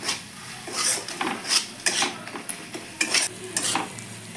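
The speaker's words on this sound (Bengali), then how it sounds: "দেখো মশলাটা আমার কষে গেছে মশলার গা থেকে তেল ছাড়ছে" Spice paste with turmeric frying in oil, close-up scraping and stirring of a utensil against the pan in an irregular rhythm over a soft sizzle, with no talking.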